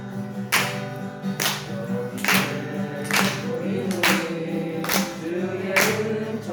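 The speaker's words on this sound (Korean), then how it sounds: "620장 박수치며 주님께 찬양드리고" Korean church congregation singing a hymn while clapping along in time, evenly spaced claps about once a second over sustained group singing.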